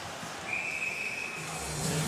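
A referee's whistle blows once in a Russia–Switzerland ice hockey game at the 2016 World Championship, a single sustained shrill tone over the low roar of the arena crowd.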